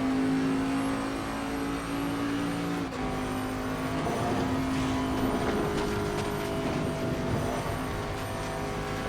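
A Bentley GT3 race car in Assetto Corsa Competizione at Spa runs flat out in sixth gear up Eau Rouge, its engine a loud, steady, continuous drone with a brief dip near the third second.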